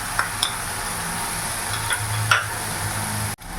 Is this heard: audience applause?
no